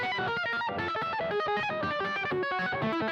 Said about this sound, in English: let me put on a little bit of distortion